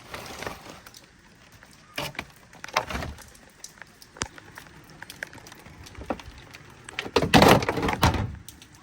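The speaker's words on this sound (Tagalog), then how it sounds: "Sarado na natin itong pinto." A wooden door thumps and bumps as it is shut at home, several scattered knocks and rattles leading to a heavier closing thud near the end, fairly close with no talk.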